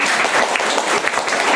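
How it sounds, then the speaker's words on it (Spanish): Applause from the audience at a university law conference, a steady dense clapping that fills the whole short moment at close range with no voices over it. "Un fuerte aplauso, por favor."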